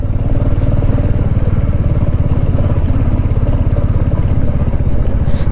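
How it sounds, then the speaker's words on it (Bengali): A motorcycle rides off-road on a rough mountain track in Ladakh, its engine loud and close with a steady, rapid thrum and rattling clatter running unbroken throughout, no voices over it. "দারুণ অফরোডিং হচ্ছে, দারুণ।"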